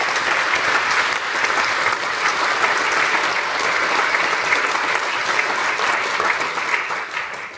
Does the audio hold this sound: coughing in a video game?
no